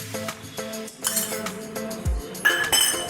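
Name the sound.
stirring salt into mango pickle mixture in a pot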